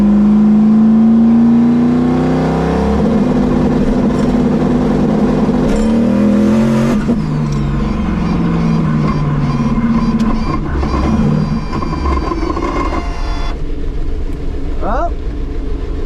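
A turbocharged drag race car at a drag racing event launches down the strip with a loud engine roar that climbs through the gears before backing off, with people talking over it.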